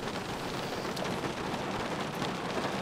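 Rain patters on a car during a summer fishing trip on a wilderness lake after a thunderstorm, a dense, even hiss of drops with no talking.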